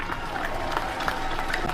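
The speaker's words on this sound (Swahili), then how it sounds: "Makofi kwake." Crowd clapping for a county governor at a Kenyan public health coverage launch in Mombasa, a steady patter of applause mixed with murmuring voices throughout.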